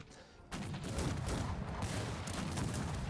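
Massed cannon fire in a Cossacks 3 battle, a dense continuous rumble of overlapping booms and crackling shots that swells after a brief quieter start, fairly quiet overall.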